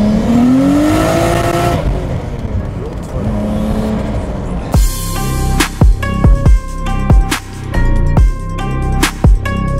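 A Nissan Skyline GT-R R33 engine, heard loud and close with sustained engine tone that rises and falls, then a series of sharp, rapid rev blips and gear-change bursts in quick succession toward the end.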